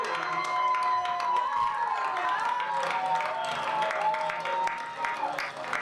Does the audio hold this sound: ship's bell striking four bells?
no